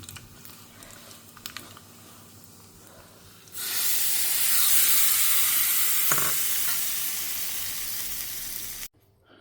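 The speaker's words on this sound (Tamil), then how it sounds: "இதுக்கு கடுகு, உளுத்தம்பருப்பு, பெருங்காயம், கருவேப்பிலையை தாளித்து கொட்ட வேண்டிதான்" Mustard seeds, urad dal, asafoetida and curry leaves drop into hot oil and burst into a loud, sudden sizzling hiss after quiet kitchen noise, with one sharp crackle partway through, before cutting off abruptly.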